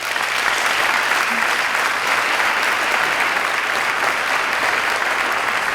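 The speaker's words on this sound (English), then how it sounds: "A round of applause," Applause fills an academic and leadership awards convocation, a dense, even wash of clapping from a large audience that holds steady throughout without pausing.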